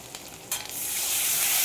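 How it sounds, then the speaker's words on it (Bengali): Spice paste with cumin powder fries in oil for chicken curry; water splashes in and the quiet sizzle jumps into a loud, close, rising hiss that keeps building. "মশলাটা ভালো করে ভাজা ভাজা করার জন্য জলটা দিলাম"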